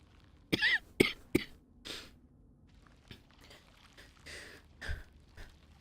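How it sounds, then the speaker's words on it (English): Someone gives a few short, soft coughs close to the microphone, then fainter rustles, shuffles and small noises in a quiet room. "that was a little cough"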